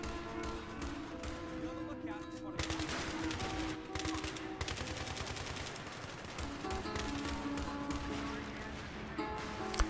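Rapid automatic gunfire fills a Battlefield 3 round on the Karkand map, with dense machine-gun bursts and scattered shots running almost continuously and a voice talking faintly underneath.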